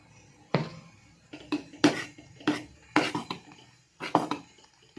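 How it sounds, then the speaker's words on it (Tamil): A utensil knocks and scrapes against a metal pot while batter is stirred to break up lumps, with several separate clinking strokes and quiet pauses between them. "கட்டி இல்லாமல் கிண்டணும்"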